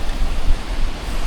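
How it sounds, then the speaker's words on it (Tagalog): Ocean waves at Tallag Beach in Gonzaga, Cagayan Valley, roar continuously in a loud, rushing wash of surf with wind buffeting the microphone. "Malaki na ng alon."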